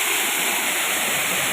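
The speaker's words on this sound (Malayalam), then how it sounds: "ഇതാണ് നമ്മുടെ വീട്ടിന്റെ അരുവത്തെ വെള്ളച്ചാട്ടം കേട്ടാ" A waterfall on a stream running beside a house rushes loudly and continuously, a close, dense wash of falling water with no talk heard.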